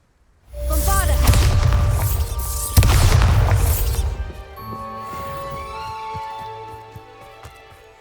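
A Bombarda explosion spell in Hogwarts Legacy erupts as a loud, close blast with a booming rumble and crashing debris, a second impact hitting midway, then fading into a ringing, tonal magical tail.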